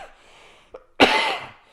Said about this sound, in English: that is an excellent demonstration of how you should be coughing right now